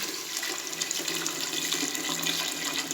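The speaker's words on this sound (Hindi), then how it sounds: "30 सेकंड भूनने के बाद इसमें मैं पानी ऐड कर रहा हूँ।" Water pours steadily into a cooking pot for beef yakhni pulao, a continuous splashing rush from start to finish, close and alone.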